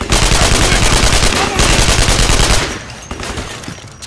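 Rapid automatic gunfire in the military shooter game Code of Honor 3: Desperate Measures, dense continuous bursts for about two and a half seconds, then sparser, quieter shots trailing off near the end.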